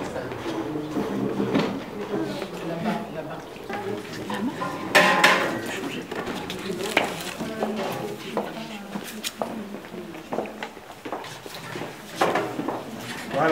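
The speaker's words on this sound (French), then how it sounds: "Une casserole en aluminium." An aluminium saucepan is handled at a customary wedding, with clattering metallic knocks and rattles of dishes and cutlery over steady crowd chatter and voices.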